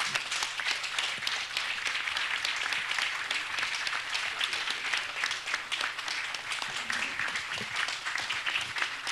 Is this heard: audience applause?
yes